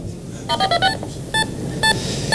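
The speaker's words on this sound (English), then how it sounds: "he sent me a touch tone code out, and that waked my receiver off" Two quick bursts of touch-tone telephone beeps sent over a radio frequency to trigger a pager receiver, a rapid run of several tones followed by a few spaced single tones, clear over faint hiss.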